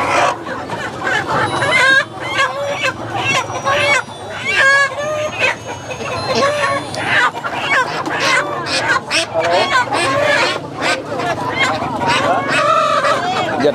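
Chickens and roosters at a busy farm produce market in Laos cluck and crow repeatedly, loud and near, amid a dense crowd and background chatter.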